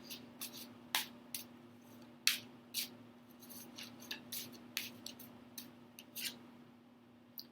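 Tarot cards being shuffled with some difficulty, giving sharp, irregular papery snaps and riffles that stand out close against a faint steady hum, with no voices.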